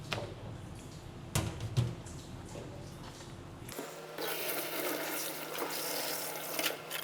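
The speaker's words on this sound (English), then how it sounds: "we can rinse this, our second tap water immersion" Tap water runs and splashes over a thawed mushroom sample being rinsed during fungal chitin extraction, a soft trickle that swells into a steadier, fuller stream partway through, with no one talking.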